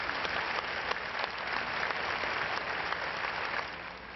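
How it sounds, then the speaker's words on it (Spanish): A crowd gathered at Barcelona's Plaza de Cataluña for a ceremony honoring attack victims applauds continuously, a steady wash of many hands clapping outdoors that eases slightly near the end. "Esto fue seguido de más de un minuto de aplauso"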